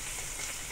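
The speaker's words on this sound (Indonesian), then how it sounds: "sis nak goreng dia punya, sis suka naik bau lah serai" Lemongrass frying in hot oil in a home kitchen while fried rice with pineapple and chicken is prepared, giving a steady, broadband sizzle of moderate loudness with no voices over it.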